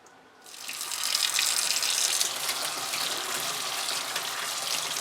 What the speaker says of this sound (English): You want to wash off all the excess salt, in this case brown sugar, just so that when I go to smoke it, it's not too salty.